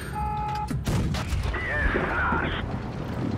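A tank cannon firing in World of Tanks Blitz, with the 60TP tank, one sharp booming shot followed by a rolling echo and a rising whine under game sounds and a voice.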